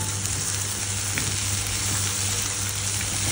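Dried fish bhuna sizzles and fries steadily in a pan while being stirred, a constant soft crackle with a faint scrape of stirring, no voices.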